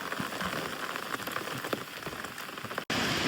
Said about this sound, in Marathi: हे बघा तिकडं वारा भरपूर सुटलाय आणि पाऊस पण पडतोय